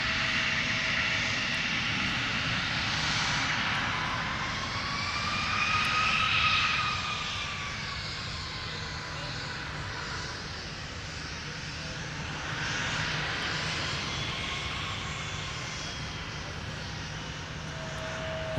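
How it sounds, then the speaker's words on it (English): Jazz Aviation Embraer 175 regional jet departing runway 12 Left at Minneapolis–Saint Paul airport, a steady loud jet engine roar that swells and fades with a rising whine as it passes, with faint talk underneath. "So they're using a Embraer 175 today."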